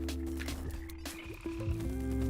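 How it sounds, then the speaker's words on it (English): Croaking frogs in a Godot game under development, a steady synthetic croak-like tone running beneath sliding pitched game effects, moderately loud with no talking. "Yes, the plague of frogs"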